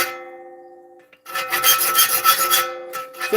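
A file rasps across a saw blade being sharpened, a ringing metallic tone fading before a burst of harsh, gritty back-and-forth filing strokes, close and loud.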